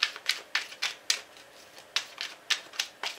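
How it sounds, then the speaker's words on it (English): Tarot cards being shuffled by hand, a quick series of crisp riffling bursts about every third of a second, close and clear with no talk. "Let me shuffle these a little bit."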